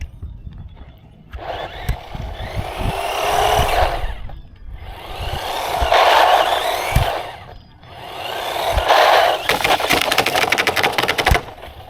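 A Deerc 9201E RC car on a 3S battery, its electric motor whining up in three separate loud bursts of several seconds each with brief pauses between, mixed with rattling and crunching of wheels on the ground, no speech.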